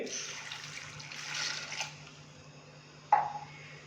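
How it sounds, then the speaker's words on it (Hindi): A glass of water is tipped into a pot of chana dal gosht, heard as a soft, continuous splashing pour that swells, then tails off, ending in a single sharper splash, with no talking. "1 गिलास हम इसके अंदर पानी डालेंगे।"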